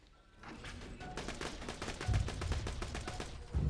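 Deployed turret opening fire in Borderlands 2, a rapid mechanical stream of gunshots that starts after a brief lull and keeps up steadily, with heavier booming impacts mixed in near the end.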